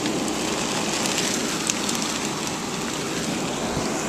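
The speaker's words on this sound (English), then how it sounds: "That is some rain." Heavy monsoon-like tropical downpour in Barbados, a dense, loud, steady hiss of rain pounding surfaces nearby, continuous without pause.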